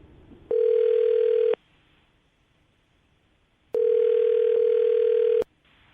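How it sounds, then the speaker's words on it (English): Telephone ringback tone while calling a radio date-update caller, two long steady beeps of about a second and almost two seconds, separated by a pause. "I'm going to dial the phone number."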